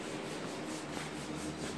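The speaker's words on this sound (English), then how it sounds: "I'm just kind of roughing up the side skirts and the front little lip spoiler there" Steady hand sanding roughs up the side skirts and front lip spoiler of a Rocket Bunny v2 Boss body kit on an S14 ahead of primer, a continuous close-up rasping scrub with no talk.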